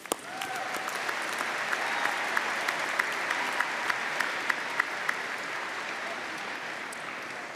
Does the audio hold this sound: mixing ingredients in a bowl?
no